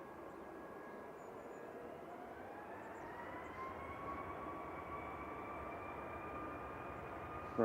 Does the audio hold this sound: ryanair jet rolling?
yes